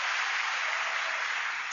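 A large crowd of thousands applauding together, a dense, steady wash of clapping that stays loud and even throughout with no voices standing out.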